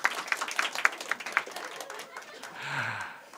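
A church congregation at a Sunday worship service claps in a brief burst of applause that fades out, with a voice speaking near the end.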